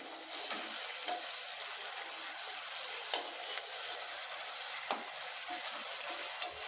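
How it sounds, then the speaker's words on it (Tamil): Onions for a vegetable kurma sizzle in a hot pan with a steady frying hiss, broken by occasional scrapes and clicks of a spoon stirring. "இப்போ இதை நல்லா வதக்கி விட்டுக்கலாம்"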